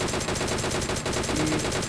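Video game gunfire crackles as a dense, continuous burst of rapid shots for about two seconds, moderately loud with no talking.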